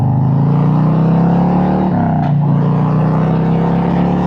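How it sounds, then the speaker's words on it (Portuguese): A 2025 Harley-Davidson Road Glide motorcycle accelerates with a loud, steady engine drone that shifts down in pitch at a gear change midway and then climbs again, heavily buried in constant roaring wind noise. "Vocês vão provavelmente perder o áudio, porque o barulho do vento vai ficar muito forte"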